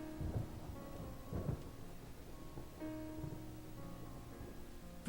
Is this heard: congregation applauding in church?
no